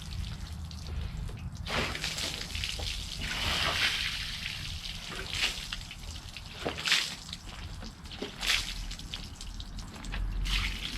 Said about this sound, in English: just rinse it. Try and use soft water if you can